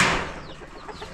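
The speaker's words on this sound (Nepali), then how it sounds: "यहाँ कुखुरा फार्म हाम्रो कुखुरा फार्ममा चाहिँ हेर्नुहोस् के छ" Chickens at a small hillside chicken farm let out a short burst of clucking, close and fairly loud at first, then trailing off quickly.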